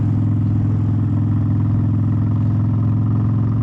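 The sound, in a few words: Harley-Davidson Softail motorcycle engine running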